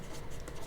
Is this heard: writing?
yes